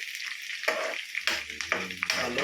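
Green chillies sizzling and crackling in a hot pan for chicken curry, a steady close frying hiss with sharp bursts and spatters as they are stirred.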